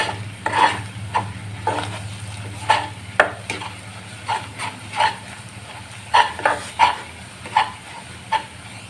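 Egg curry masala with salt fries in a pan, with a dozen or so brisk scraping stirs over a soft, constant sizzle, close up.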